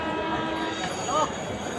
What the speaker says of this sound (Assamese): তো এতিয়া বহি আছোঁ প্লেটফৰ্মত